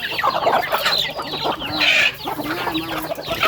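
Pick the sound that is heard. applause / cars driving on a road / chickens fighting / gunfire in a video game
chickens fighting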